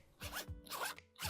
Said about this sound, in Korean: 아주 멋진 지퍼 ASMR을 들으실 수 있어요